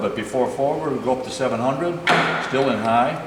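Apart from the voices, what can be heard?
No everyday noise stands out behind the speech.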